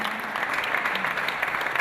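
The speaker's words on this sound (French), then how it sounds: "On peut applaudir la société Bouillé-le-Roux." Brief burst of audience applause at a finance and management awards ceremony, steady dense clapping at a moderate level.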